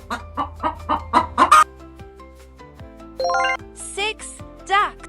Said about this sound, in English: Chickens say cluck,